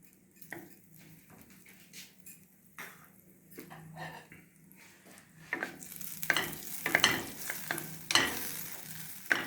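Butter heats in a pan for white sauce pasta, giving a soft sizzle that grows louder partway through, mixed with utensil scrapes, stirring clinks and knocks against cookware.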